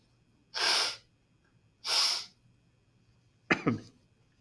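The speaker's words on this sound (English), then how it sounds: "I'm going to pause quick so I can blow my nose." Three forceful nose blows, the last one wetter and more broken, close up in a quiet room.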